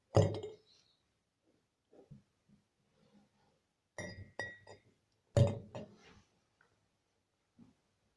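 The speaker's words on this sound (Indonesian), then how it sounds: "Step kedua yaitu memasukkan telur pada gelas." Egg dropped into a drinking glass for a salt-solution experiment, giving a few faint, sharp clinks and taps scattered across a quiet background, with soft handling knocks between them.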